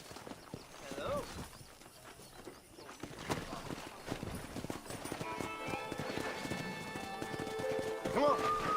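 Galloping horse hooves in the video game Red Dead Redemption near a pack of wild horses, a steady rapid clip-clop with a horse whinnying, while people talk over it and music rises toward the end.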